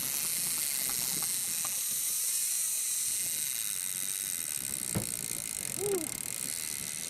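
A fishing reel's drag clicks in a fast, ratcheting buzz as a hooked fish runs on a boat outing, steady and fairly quiet under wind hiss, with a short voice exclamation near the end.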